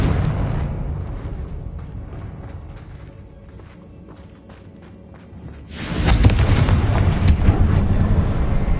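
The Confringo fire spell in Hogwarts Legacy lands as a loud, rumbling blast, and a low roar follows it and fades away. A second heavy, crackling burst flares up later and keeps going.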